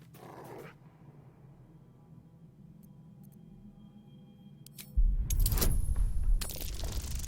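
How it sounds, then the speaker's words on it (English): A dog in Baldur's Gate 3 pants and huffs with a ball held in its mouth. Soft breathy sounds come first, then a louder burst of close, rough growly panting near the end. "The dog pants through a ball held firmly in his mouth."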